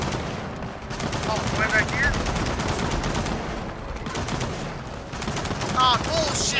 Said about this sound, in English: And that's a machine gun nest.